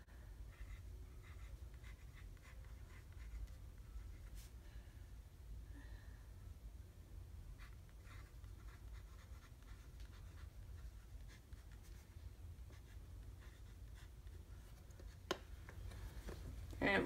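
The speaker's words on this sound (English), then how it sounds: "it writes actually really smoothly for being a free pen." A fine-nib fountain pen writes on paper, giving a faint, close, steady soft scratching that runs throughout over a quiet low background hum.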